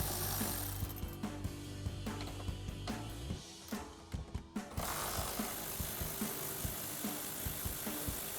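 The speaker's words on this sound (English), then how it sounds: "we're gonna take that same T50 Torx socket to remove these bolts" A hand ratchet fitted with a T50 Torx socket clicks in quick rhythmic bursts while backing out Jeep Wrangler JL hardtop bolts, close and fairly quiet, with short pauses between strokes.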